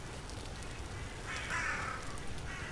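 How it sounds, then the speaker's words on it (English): Large flock of around a hundred crows in the video game Vintage Story, a dense mass of overlapping caws rising briefly in the middle of a steady ambient background, fairly faint and without any talking. "This is at least 100 crows."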